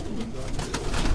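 Flying pigeons coo softly and repeatedly, close by on a rooftop, over a steady rustling outdoor background.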